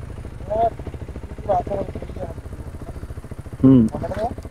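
A motorcycle engine idles close by with a steady low throbbing pulse, while people talk over it in several short bursts.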